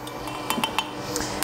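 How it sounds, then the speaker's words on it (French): A metal spoon clinks lightly against a container while orange blossom water goes into rice-almond milk, making a few soft, close taps over a faint room hum. "je vais mettre directement ma cuillère de fleur d'oranger dans mon lait végétal"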